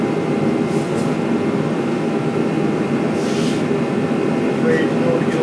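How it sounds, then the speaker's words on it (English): A loud exhaust fan runs steadily in a custom paint shop, a constant broadband roar filling the whole clip with no breaks, with a few faint higher hisses over it. "if I turned my exhaust fan on, it'd be so stinking loud"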